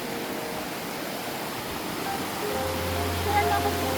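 Gabur-Gabur Falls in Peñablanca, Cagayan produces a steady, broad rushing roar of falling water, with a low hum and faint voices appearing near the end.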